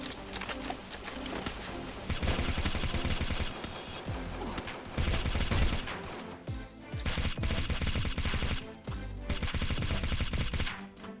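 Rapid gunfire crackles through a Free Fire match, loud dense bursts of automatic shots that break off briefly and resume, close and sharp, with no talk over it.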